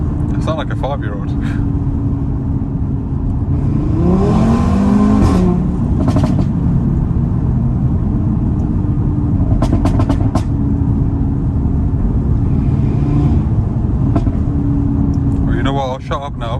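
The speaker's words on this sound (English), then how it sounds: "I'll let you guys just listen to the engine." Audi RS3 8V with its five-cylinder engine rumbling and revving steadily from inside the cabin, one brief rising rev in the middle, continuous and fairly loud throughout.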